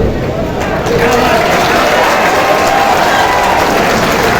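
Loud, dense applause and crowd noise fill a political rally hall continuously, a broad roar of many hands clapping close by with no pauses.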